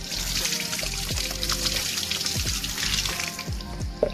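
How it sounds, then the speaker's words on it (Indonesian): A running tap rinses washed hands, a continuous splashing, trickling stream in a sink, close and steady throughout with small irregular splashes. "Lalu siram dengan air yang mengalir."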